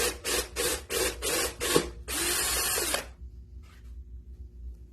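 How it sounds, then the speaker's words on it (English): A power drill buzzes in six quick rhythmic bursts while drilling out a part on a Hummer H3 headlight, then runs in one longer grinding stretch before stopping, leaving a faint hum. "So now we're going to drill this one out."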